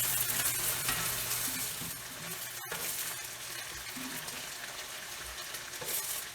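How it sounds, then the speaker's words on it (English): Carrots stir-fry in a hot pan with a steady, close sizzle and occasional scraping of the stirring utensil, continuous throughout with no talking. "I'm going to stir fry also our carrots just for a minute or so."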